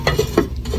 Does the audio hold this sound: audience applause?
no